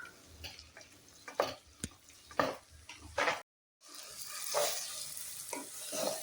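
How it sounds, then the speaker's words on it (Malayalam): Ripe banana slices fry and get stirred in ghee in a pan. A soft sizzle runs under repeated scraping and clicking stirring strokes, with a brief silent gap partway through and no talking. "നെയ്യിൽ കിടന്ന് ഈ പഴം നല്ലതുപോലെ ഒന്ന് മൂത്ത് വരണം"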